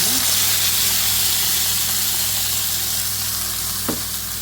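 Ground kichadi paste hits hot oil with popping mustard seeds for a loud, steady sizzle and hiss throughout, with one sharp pop near the end.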